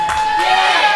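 A crowd at a live pro wrestling event roars and cheers, a loud, dense wall of voices with shrill whoops rising through it across one brief second.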